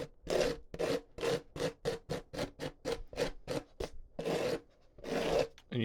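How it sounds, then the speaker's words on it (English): A paper towel wipes excess paint off a surface in a series of close, rhythmic rubbing and scraping strokes, about a dozen quick swipes with a few longer ones near the end. "get a paper towel to wipe the excess off here."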